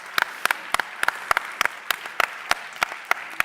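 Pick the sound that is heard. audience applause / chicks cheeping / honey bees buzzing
audience applause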